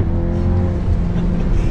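A modified Audi S3 fitted with a Pedal Commander throttle controller accelerates briefly, its low engine note rising strongly and close by, with no talk.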